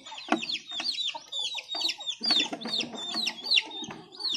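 Brooding hen clucking in a short run of close, repeated calls, with other chicken sounds mixed in and no talk.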